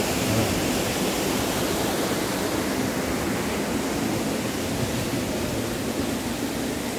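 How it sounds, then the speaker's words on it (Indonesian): A clean river flows beside a house, a continuous even rush of water heard close and fairly loud, with no voices. "Di sini ada sungai, guys."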